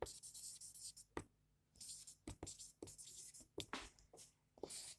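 Chalk or marker moves across a board in short strokes and scratches, broken by small taps and pauses. The sound is faint and close in a quiet classroom setting.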